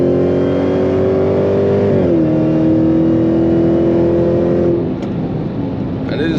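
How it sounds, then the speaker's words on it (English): A Dodge Hellcat's supercharged engine, rated at 751 horsepower, runs with its exhaust valves open: a loud, sustained roar that holds steady, dips at a gear change, then drops off as the car eases. "If you open the exhaust, choosing the button here, click it, then you always have this lovely sound that only wants to go forward."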